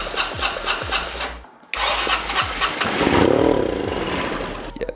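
A flooded 1985 Honda Elite scooter engine is turned over, with several rhythmic starter cranks, a brief silent pause, then a rough, sputtering run that swells and fades unevenly, loud and close with no talking.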